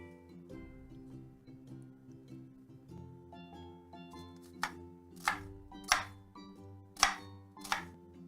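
A knife chops an onion on a cutting board with soft taps at first, then several sharp, louder chops close by near the end, with no talking.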